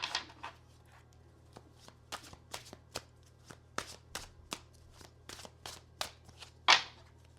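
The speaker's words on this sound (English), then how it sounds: "So I'm gonna shuffle one more time, cut it" A deck of tarot cards is shuffled and cut by hand, giving a steady run of crisp, papery slaps and riffles, with one louder snap near the end, close and clear.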